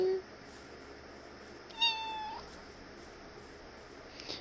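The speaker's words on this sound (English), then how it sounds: "No little squeaky cat." A small cat gives a single short, high squeaky meow, faint against a quiet indoor room with a low steady hum.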